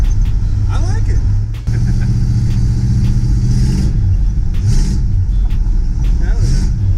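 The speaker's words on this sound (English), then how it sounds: "hear the intake leak, and it's got another tick underneath from the exhaust leak" A project truck's engine idles and revs close by, with a light intake-leak tick and a further ticking from an exhaust leak underneath, while people talk over it.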